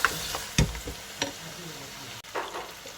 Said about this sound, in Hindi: अब इनको मैं भूनूंगी दोबारा, और इसमें एक मोटी वाली हरी मिर्च डालूंगी